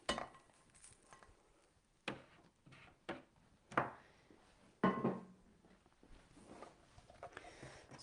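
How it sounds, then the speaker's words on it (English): Vegan faux gras pâté ingredients being mixed in a bowl, with irregular scraping, tapping and clinking of a utensil against the sides, fairly close and quiet, with gaps between strokes. "So just mix around a little bit, just get the drier stuff off the side"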